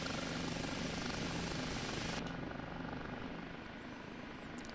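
OH-58D Kiowa Warrior helicopter in the DCS flight simulator, a steady, loud rotor and turbine drone heard from the cockpit that drops slightly in level partway through, with no talk over it.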